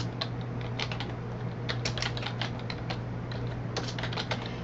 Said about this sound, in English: I'm going to keep typing.